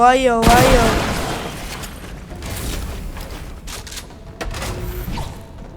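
AK rifle gunfire in the Fortnite video game: a loud burst of rapid shots at the start, then scattered thuds and sharper cracks over a busy game background.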